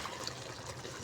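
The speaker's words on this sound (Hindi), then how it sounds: "और अब मैं थोड़ा सा 1 कप पानी डाल दूँगी" About a cup of water is poured into thick chicken korma masala in a pot, a soft, steady liquid trickle heard faintly and alone.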